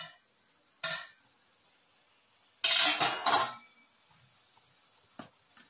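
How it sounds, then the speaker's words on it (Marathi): Metal pot lid lifted off after steaming dough in a home kitchen, a few sharp clinks and scrapes of metal with a brief rattling cluster in the middle, close and otherwise quiet. "आता आपण झाकण उघडून बघूया"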